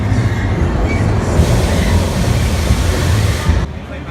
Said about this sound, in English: Good little coaster, an old Schwarzkopf coaster, and apparently the biggest travelling coaster in the world.